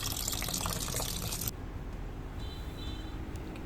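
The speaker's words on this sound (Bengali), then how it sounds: "চাল আর ডাল মিক্স করে নিব এখন পানি দিয়ে ভালো করে" Parboiled rice and masoor lentils being rinsed with water for khichuri, a loud splashy gush of water for about a second and a half, then a quieter lingering trickle and slosh.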